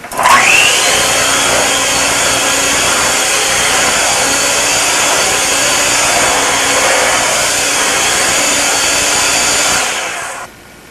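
Boiled potatoes are mashed for lefse with an electric appliance, a loud, steady motor whine that starts suddenly, runs continuously for about ten seconds, then cuts off.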